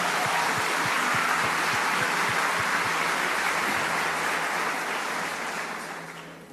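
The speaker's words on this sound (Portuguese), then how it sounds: "Uma salva de palmas para eles" A church congregation applauding, a steady wash of clapping at moderate level that gradually tapers off toward the end.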